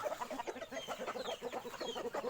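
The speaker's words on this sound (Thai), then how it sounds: "ก็ไก่มีอยู่ประมาณน่าจะ 30 ตัว" Roughly thirty chickens, mostly roosters, cluck in a small backyard coop, a busy overlapping chatter of short, close calls with no talking.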